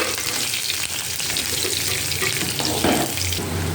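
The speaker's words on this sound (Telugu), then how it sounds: "ఆయిల్ హీట్ అయ్యాక కొంచెం ఆవాలు, జీలకర్ర వేసుకోవాలి. ఆనియన్స్ వేసుకోవాలి." Onions, mustard seeds and cumin frying in hot oil for a banana-stem tempering, a steady close sizzle and crackle running throughout with faint stirring clatter and no voices.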